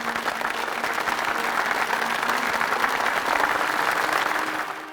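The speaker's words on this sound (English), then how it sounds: "a roaring sound of applause fills the" Roaring applause from a crowd at a New York City police cadet oath ceremony fills the auditorium, a dense, continuous wash of clapping that stays loud and even throughout.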